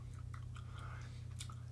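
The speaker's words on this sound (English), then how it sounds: "I'm chewing gum." Gum being chewed close to the microphone, soft wet squishes and small clicks in an irregular rhythm over a low steady electrical hum, faint and with no talking.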